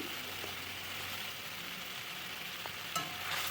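A paste of onion, garlic, ginger and green chili sizzles in a pan with a little water, a constant close hiss broken by a few scraping stirs and a clink near the end, no talking.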